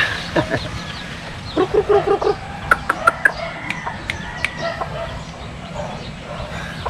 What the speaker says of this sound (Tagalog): Mga sisiw. Yung mga sisiw natin.